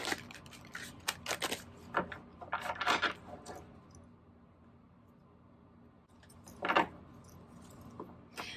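Several bursts of riffling cards, quick papery flutters separated by pauses, with a final shuffle after a quiet stretch; close and moderately loud.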